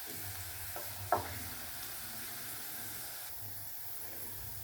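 Garlic and curry leaves frying in hot oil in a pan for Kerala-style mango pickle, a steady soft sizzle close by with a brief clink near the start, no talking.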